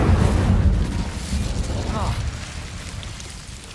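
An Incendio fire spell is cast in Hogwarts Legacy, releasing a loud, close rushing roar of flame that starts strongly and gradually fades over a few seconds.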